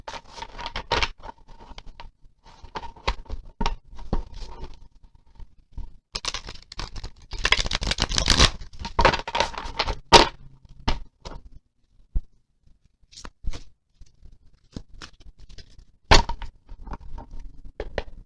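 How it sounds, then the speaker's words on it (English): A thick, hard-to-shuffle deck of cards being shuffled, giving irregular bursts of papery riffling, scraping and flicking, loudest in a dense flurry mid-clip, with quieter pauses and no talk. "It's never an easy deck to shuffle."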